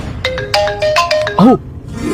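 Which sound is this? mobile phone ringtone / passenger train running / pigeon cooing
mobile phone ringtone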